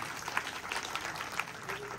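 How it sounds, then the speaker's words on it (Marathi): An audience at a local village event applauds the Shivshakti youth group, a steady, somewhat distant patter of clapping with crowd murmur and voices underneath. "या शिवशक्ती तरुण मंडळासाठी जोरात टाळ्या वाजवा सगळ्यांनी."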